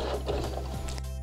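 A sewing machine backstitches along the edge of a double-layer satin bonnet, a brief close mechanical whirring and clattering run with no talk.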